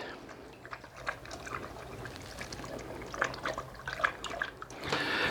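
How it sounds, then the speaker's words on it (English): Fresh spring water trickles and splashes steadily nearby, with small drips and gurgles and occasional louder splashing, no voices. "there's water here again, fresh water from the spring, and dogs love it."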